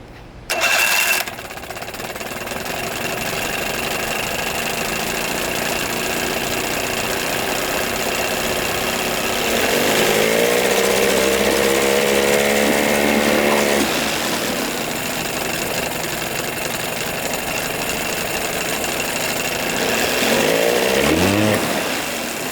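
A 1982 Evinrude 9.9 hp long-shaft outboard motor runs steadily with its idle raised, a continuous buzzing drone that swells briefly twice as the engine revs slightly, heard close with no talking.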